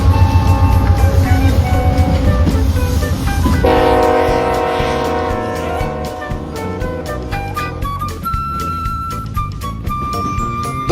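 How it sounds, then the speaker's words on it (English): A westbound CSX manifest freight train passing loud and close, with a blaring horn early on, then steady wheel and car rumble and squeals as the wagons roll by. "This one was another CSX manifest train, however this one was going westbound."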